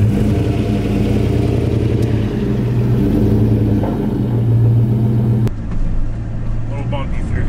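Older regular cab short bed pickup truck towing a car trailer uphill over a bumpy road, its engine rumble loud and steady throughout with brief jolts, heard from inside the cab.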